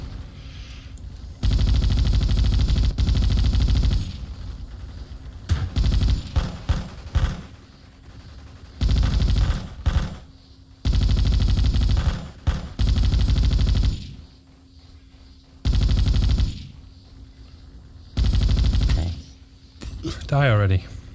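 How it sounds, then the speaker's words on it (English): Gunfire in the Vietcong video game during a siege mission, repeated loud bursts of automatic rifle fire in clusters of one to two seconds, separated by quieter gaps with a faint background hum. "Someone's shooting at me down there, I can't see them."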